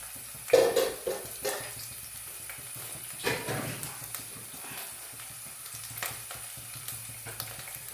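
Ginger and green chillies frying in a pan on a home stove, with soft sizzling and crackling and a few louder stirring scrapes near the start and middle.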